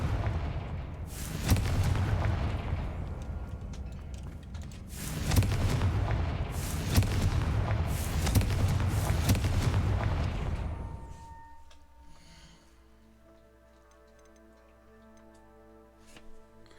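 Repeated heavy magical blasts from the Confringo explosive spell in Hogwarts Legacy, several loud booming bursts over about ten seconds, then fading into quiet ambient tones.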